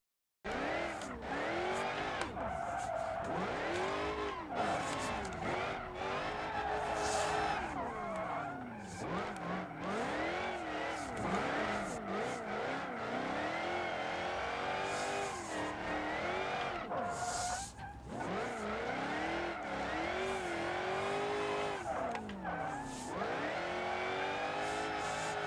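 A car drifts in the BeamNG.drive driving game, its engine revving and wailing through repeated rises and falls while tires squeal and skid almost nonstop, loud and close, with no talking.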